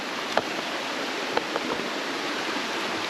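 A mountain stream near Orsigna, Italy, flows over rocks with a steady, close rushing wash, broken by a few faint splashes or knocks.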